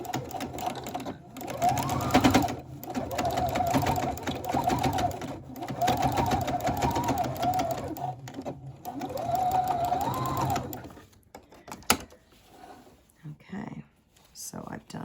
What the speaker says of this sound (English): All right, so I'm adding one more row of stitching.